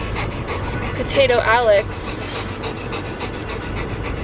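Panting from a tired dog after a day out, quick breathy rhythm running through the clip close to the mic, with a brief higher whimpering whine partway through and a voice speaking over it.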